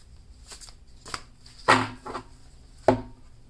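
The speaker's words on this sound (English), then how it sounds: "I'm going to go ahead and shuffle the cards one more time." Tarot cards shuffled by hand in a few distinct riffling bursts with short pauses between, close and fairly quiet.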